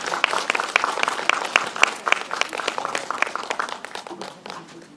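A modest audience at an outdoor cultural festival at the Donggureung royal tombs claps for a Korean traditional chamber music ensemble, with crisp, distinct hand claps in a brisk patter that thins out and quiets toward the end.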